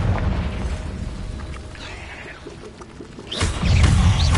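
A Confringo fire-blast spell explodes in Hogwarts Legacy on PS5, a deep booming burst that swells near the end after a stretch of rumbling combat ambience.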